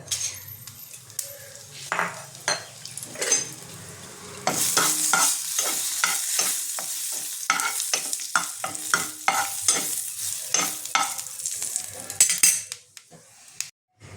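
Bay leaves, dried red chilli and whole cumin seeds sizzle in a little hot oil for a Bengali-style whole masoor dal tarka, a steady crackling hiss with repeated sharp clinks and scrapes of a utensil stirring in the pan.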